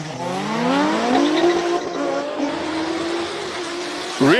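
An Ultima GTR, a lightweight rear-wheel-drive race car, roars up a Cape Town hill climb course with its engine pitch rising and falling between gear changes, loud and near, with a sharp burst at the very end.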